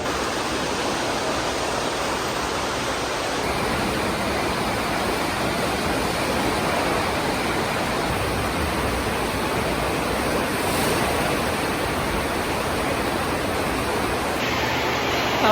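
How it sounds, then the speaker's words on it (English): Rushing water at a water park slide makes a loud, continuous roar that stays steady and close from start to finish, with no voices. "Why am I really excited to go down the water slide?"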